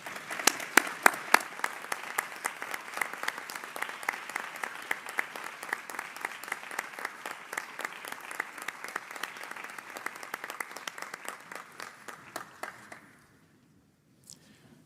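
Sustained applause from an audience at an annual business meeting honouring standing past presidents, dense steady clapping for about thirteen seconds that then stops abruptly, leaving near silence.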